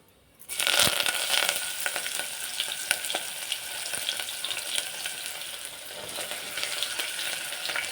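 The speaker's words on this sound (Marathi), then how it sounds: "जिरं मस्त फुलले, त्याच्यात टाकू कांदा" Onion goes into hot oil with bloomed cumin seeds for masale bhat and sets off a loud, steady sizzle. Crackling spits and stirring clicks run on top of it, with nobody speaking.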